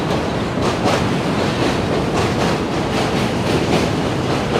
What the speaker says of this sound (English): M train coming at us now.